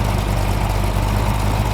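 Chrysler 318 stroker V8 idling steadily at around 650 to 750 rpm, a loud, close, deep rumble with an even lumpy pulse and no voices over it.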